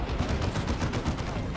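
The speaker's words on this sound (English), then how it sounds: "They heard the Dreadnought Assault Cannon and said, it's enough, lads." A Dreadnought's assault cannon in Dawn of War 2 fires a rapid, continuous stream of heavy automatic shots, dense and rhythmic, filling the whole moment with battle noise.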